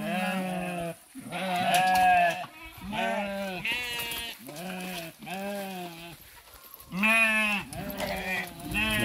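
A flock of farm sheep bleats in overlapping cries that repeat for the whole stretch, loud and near, with short gaps between calls.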